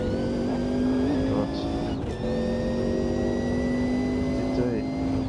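A Sauber C9 race car in Automobilista 2 drones with a steady, high-pitched engine note that holds nearly constant, with slight pitch shifts as it revs through a lap; a voice talks over it.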